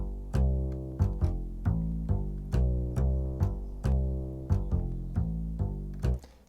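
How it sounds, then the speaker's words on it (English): Plucked upright bass notes in a steady rhythm, deep and resonant, each note ringing briefly before the next, played alone. "We're just using session bassist upright bass"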